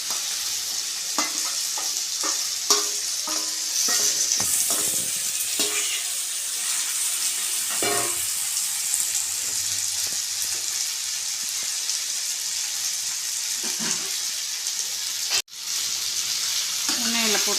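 Bitter gourd sizzles in hot oil with softened onion and tomato in a pan, a steady, close crackling fry broken by scraping stirs, with a voice speaking faintly now and then.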